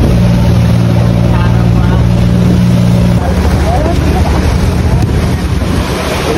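Loud, constant roar of a motorboat moving over the sea, with engine drone, splashing water and heavy wind buffeting the microphone.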